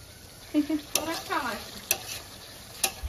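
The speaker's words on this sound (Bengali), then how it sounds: "চিকেন দারুণ কষানো হচ্ছে, দারুণ।" Whole chicken leg pieces with turmeric being sautéed and stirred in a pan, a soft background sizzle broken by sharp scraping clicks of a spoon against the pan at irregular intervals.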